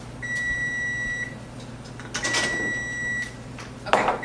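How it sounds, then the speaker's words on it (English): Kitchen timer beeping during home cooking of yogurt granola, two sustained electronic tones each about a second long, followed by light clatter. "Okay, there's our timer going off."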